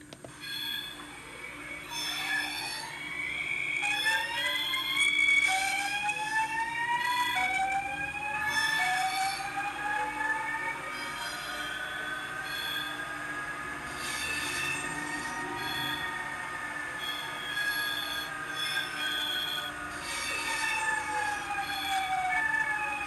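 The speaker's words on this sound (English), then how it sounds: "We'll turn on the squeal, the curved squeal sound here." A sound decoder on a model NS VIRM train plays a curve squeal, with repeated high, wavering wheel-squeal tones rising and falling over a steady low motor hum for a sustained stretch.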